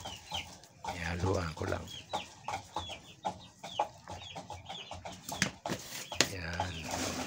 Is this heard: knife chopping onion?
no